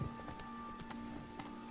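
In The Witcher 3, the horse Roach gallops with rapid rhythmic hoofbeats, moderately close, over a steady background tone with faint game ambience.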